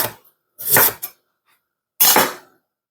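Fresh ginger sliced with a knife on a board, three sharp close cuts in quick succession with short silent gaps between them.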